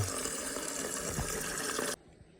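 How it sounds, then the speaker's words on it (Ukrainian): Water drains from a home heating system being emptied to replace its circulation pump, a steady close rushing gush that runs for about two seconds and then cuts off abruptly into quiet. "треба зливати всю воду."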